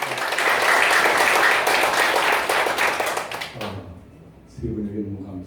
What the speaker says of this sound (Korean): 자, 박수 한번 부탁드립니다.